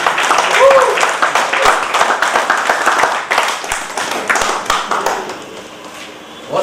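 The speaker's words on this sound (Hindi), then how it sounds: "मिथिला के लिए ताली बजा प्लीज।" Audience applause at a live public event in Darbhanga, a steady wash of many hands clapping that swells and lingers for several seconds, fairly loud, with crowd noise mixed in.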